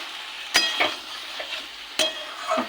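Vegetables are stir-fried in a pan, a soft steady sizzle punctuated by two loud metallic spatula scrapes and several lighter knocks, close by with no voices.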